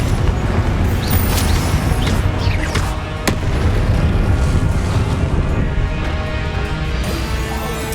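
A Confringo blasting spell goes off in Hogwarts Legacy, with a loud explosive boom amid continuous roaring combat noise and several sharp bright cracks.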